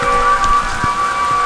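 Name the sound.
rain during an ice storm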